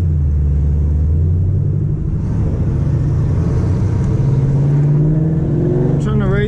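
BMW 535i at a night street race, its engine roaring loud and close with a deep rumbling rev that holds throughout, ending in a rising whine.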